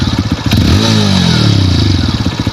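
A motorcycle engine revs as a learner rider opens the throttle during a practice start, rising from a lumpy idle into a loud, close climbing whine that holds and then settles back to a chugging idle.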